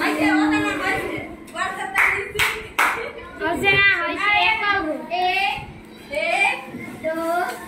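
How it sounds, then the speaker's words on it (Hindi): A classroom of children claps together in several rhythmic bursts, mixed with a teacher's voice and kids speaking throughout. "उसके लिए एक बार साथ ताली होना चाहिए"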